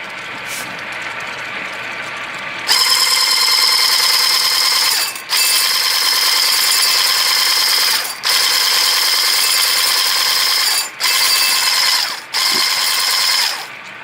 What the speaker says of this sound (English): So I'm just going to put it all in at once, okay? And then I'll whisk.